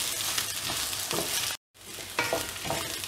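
Potato pieces fry in hot oil in a pan for a mushroom and cashew pepper fry, giving a steady, close, dense sizzle that cuts out for a moment and then resumes.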